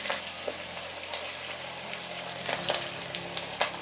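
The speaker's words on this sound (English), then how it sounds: "I don't like my onions going soggy in this meal, so I'm adding my minced meat now" Minced meat hits a hot pan of onions for kapuska and sizzles and crackles steadily, with light pops and scraping up close and no voices.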